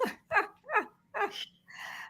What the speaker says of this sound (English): That dog gonna see me now. He gonna want to go outside.